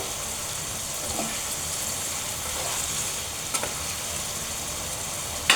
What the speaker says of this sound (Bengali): আমি এখন শুটকিগুলো দিয়ে দেবো, দিয়ে আমি একটু ভালো করে লাড়া দিয়ে আমি ঢাকনা দিয়ে 10 মিনিটের মতো রান্না করে নেব